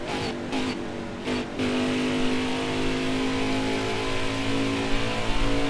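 Race truck engine in the video game NASCAR Heat 4, a loud sustained droning roar with brief throttle lifts early on, then steady high revving through a corner, no talk.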